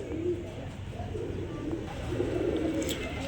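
Pigeons cooing softly among a flock kept for sale, low murmuring calls repeating over steady background hum, moderately near, no talking.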